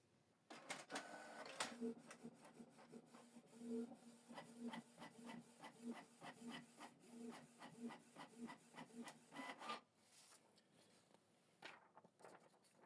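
A Canon TS3700-series inkjet printer prints a test page: rhythmic mechanical whirs and ticks repeating steadily for several seconds, then a few final clunks and quiet.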